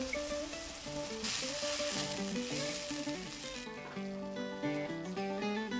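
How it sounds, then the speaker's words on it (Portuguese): Chopped seasonings and annatto fry in a pan for a fogado meat stew, giving a steady sizzle that runs continuously beneath louder background music throughout. "Adicione o urucum e deixe fritar mais um pouco."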